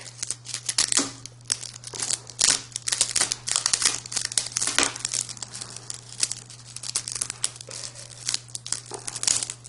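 A tough rattlesnake rattle is ripped in half, giving close, crackling, crinkly tearing bursts in an irregular run over a low steady hum.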